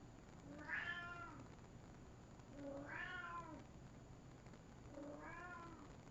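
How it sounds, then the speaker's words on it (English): A cat meows three separate times at regular intervals. The faint, distant calls sit over a low, steady background hum. "There's an annoying cat in the background."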